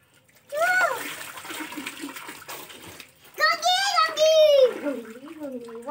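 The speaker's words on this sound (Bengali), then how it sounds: "এই জলটা দিয়ে ভালো করে স্নান করে দিই" Water poured over a child during a bath, coming in splashy bursts around a voice and an adult speaking, with a louder spell of pouring and splashing near the end.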